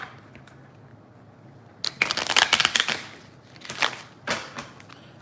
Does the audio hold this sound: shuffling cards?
yes